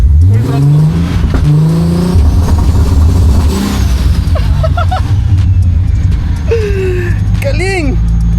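A Nissan GT-R with drive-by-wire throttle is revved to about 4,000 rpm at full throttle, the loud engine note climbing and falling in repeated surges, with people talking and reacting nearby.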